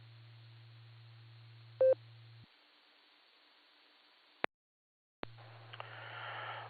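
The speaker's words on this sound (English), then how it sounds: "Mr. Huber, that's one heck of a recognition sound coming out of your phone." A loud electronic telephone tone, like a busy signal, sounds from a phone over an amateur radio repeater, holding steady for about two seconds with a brief beep, then dropping to hiss, a squelch break and returning noise.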